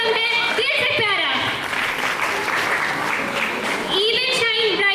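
An audience claps in welcome at a school Teacher's Day celebration, a dense sustained wash of applause lasting the whole stretch, with an amplified voice speaking over it at the start and again near the end.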